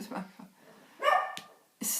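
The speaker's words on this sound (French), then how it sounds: "ça c'est mon chien" A pet dog gives a few short barks close by, with a louder burst near the end, while someone talks over them indoors.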